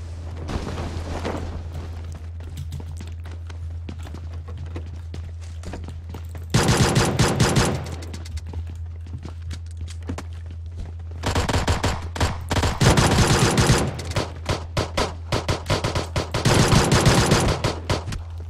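A pistol gunfight in PUBG Mobile unfolds in rapid bursts of close, loud shots separated by quieter stretches, with dense volleys toward the end and no talking.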